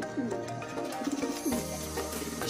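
Soft pigeon coos repeat in short rounded phrases, a few calls spread across the clip over a low steady background hum.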